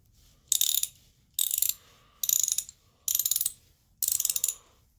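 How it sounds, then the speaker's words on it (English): Vintage Stanley Professional 3/8-inch drive toggle switch ratchet, 8 inches long with 44 teeth, clicking close-up in five evenly spaced bursts of rapid fine pawl ticks separated by short silences. "Let's take a look at this vintage Stanley toggle switch ratchet."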